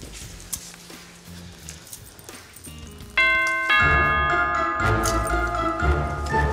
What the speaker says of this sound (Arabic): ده مجرد جرس الفيلا، يا ترى مين؟